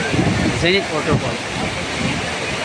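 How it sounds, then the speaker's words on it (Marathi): Zenith waterfall at Khopoli, water falling at full force in a dense, steady roar up close, with a voice speaking briefly over it. "Zenith waterfall"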